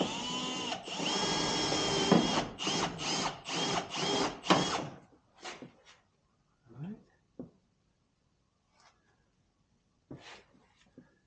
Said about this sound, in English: I'm trying to use a drill bit, but I see why it's not really working now